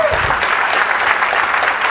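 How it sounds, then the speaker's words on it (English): A conference audience applauds a speaker, with dense, steady clapping throughout. "Please, a big warm applause for Andre Alexandrescu."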